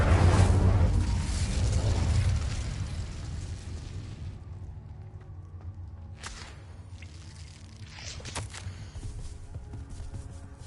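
An Incendio fire spell goes off in the Hogwarts Legacy video game with a loud, roaring burst of flame that fades over a few seconds. A few scattered sharp clicks and light thuds follow.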